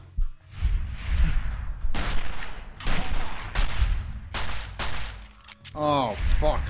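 Gunfire in a modded Fallout: New Vegas game: a string of loud, close shots in quick bursts across the stretch, with a voice speaking near the end.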